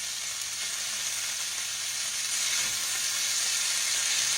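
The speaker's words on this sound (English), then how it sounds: "Let's turn our chicken over. It's getting nice and crispy." Chicken wing drumsticks frying crispy in a pan, a steady, fairly loud hiss of sizzling oil throughout with no breaks.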